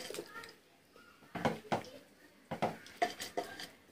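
Milk payasam being ladled from a pot into a serving bowl, a few soft clinks and scrapes of a spoon against metal, close and quiet with pauses between.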